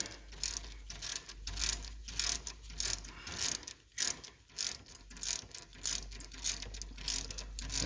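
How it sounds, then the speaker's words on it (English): Ratchet wrench clicking in quick bursts while tightening brake caliper bolts on a 2006 Duramax truck during a Power Stop brake install, close and fairly loud, with short pauses between strokes. "just tighten them up and torque them"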